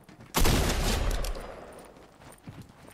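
Gunshots from the Fortnite video game in OG build mode: a sudden loud burst of gunfire that rings and decays over about a second, followed by a couple of fainter shots.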